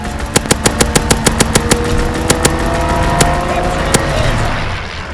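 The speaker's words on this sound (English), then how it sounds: "Fighter aircraft ready for strafing. Call the targets out. Strafing the target." Fighter aircraft strafing run in Call of Duty: WWII, a rapid string of sharp gunfire bursts over a droning engine, with a few scattered later shots.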